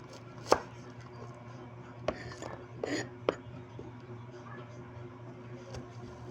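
An onion is cut with a knife for chicken adobo, giving a few sharp, separate chops on a board spread over several seconds, faint against a quiet room with a low background hum.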